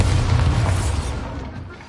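Bombarda blasting spell detonating in Hogwarts Legacy: one loud, deep, booming explosion that rumbles and slowly fades over two seconds, with no voices over it.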